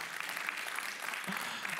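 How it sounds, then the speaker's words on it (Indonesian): Church congregation applauding during a Sunday service in Indonesia, a brief, fairly quiet burst of scattered clapping from many people, with a little murmur mixed in. "Come on, berikan tepuk tangan buat Santi."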